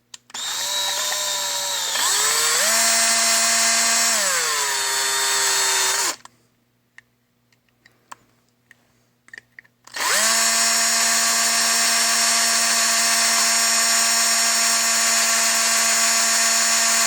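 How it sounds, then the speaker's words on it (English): A power drill whines loudly for about six seconds, its pitch dipping as the bit bites into the hole for under-cabinet lighting, then stops for a few seconds of faint clicks before spinning up again and running steadily. "Should use my drill that goes faster."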